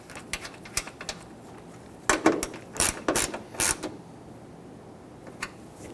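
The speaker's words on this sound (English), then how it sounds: "extension and socket to go ahead and snug these down" A ratchet with an extension and socket snugs down the bolts on a 2007-2021 Toyota Tundra windshield washer reservoir, giving several short bursts of clicking and creaking at close range with quiet gaps between them.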